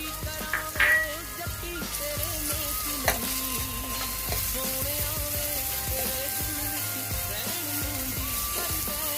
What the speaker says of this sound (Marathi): टोमॅटो आपलं कांद्यामध्ये फ्राय झालेला आहे.